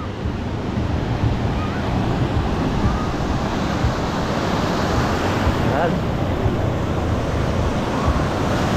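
Strong ocean surf breaks continuously on a wide beach during a New Year's beach vacation, a dense roar of waves mixed with wind buffeting the microphone, steady and loud throughout the clip.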